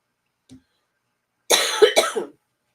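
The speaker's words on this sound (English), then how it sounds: "Yes, I still have a bit of a cough." A faint tiny sound, then a short burst of two or three dry, harsh coughs close to the microphone, followed by silence.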